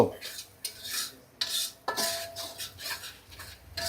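Fish masala with chili being stir-fried in a pan, repeated scraping strokes of a utensil in an irregular rhythm over a faint sizzle, close and clear with no talking.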